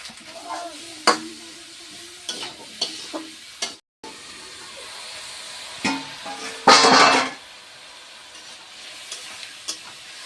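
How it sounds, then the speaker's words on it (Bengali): Vegetables stir-fried in a pan with turmeric and salt, giving a steady sizzle with scraping stir strokes and a loud burst of hissing steam partway through. "সবজিটা আমার ভালোভাবে কষাই করা হয়ে গিয়েছে"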